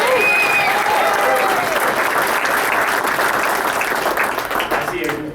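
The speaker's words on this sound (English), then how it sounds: "so let's give him a round of applause" Sustained applause from a political rally crowd in Binghamton, dense and steady clapping with cheers mixed in, loud and close throughout, tapering slightly at the end.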